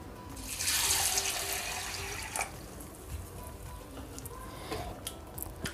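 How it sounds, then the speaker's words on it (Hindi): Water runs and splashes in a sink as sago pearls are rinsed by hand, with a burst of flow early and then intermittent swishing and clinks. "इसको हम एक दो पानी से अच्छी तरह धो लेंगे।"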